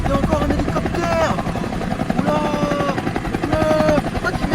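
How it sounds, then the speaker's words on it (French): Helicopter flying over a hospital emergency entrance, steady rotor thump with whirring pitch continuing throughout, while people talk nearby. "Oh les gars, il y a encore un hélicoptère."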